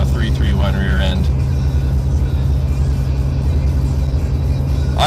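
A Ford EcoBoost pickup with a 3.31 rear end tows a 6,000 lb trailer uphill toward Erie, Colorado, and its engine drones loud and steady from inside the cab while a person talks over it at the start.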